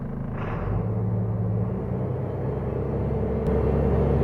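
An Isuzu FVZ280 truck's engine roars at full accelerator, a loud, steady low rumble that rises slightly and holds, close by.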